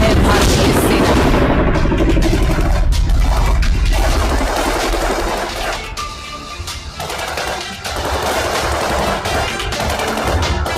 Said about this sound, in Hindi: आपके सामने आतिशबाजी की रोशनी